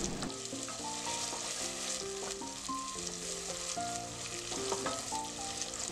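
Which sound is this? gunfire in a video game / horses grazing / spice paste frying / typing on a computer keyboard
spice paste frying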